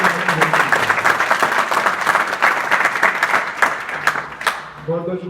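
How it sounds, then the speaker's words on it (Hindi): An audience at a school adolescent education program in Azamgarh claps in a dense, steady burst of applause that fades out, with a voice briefly heard at the end. "तो राजेंद्र राजपूत सिंह के लिए भी एक ताली बजा दें"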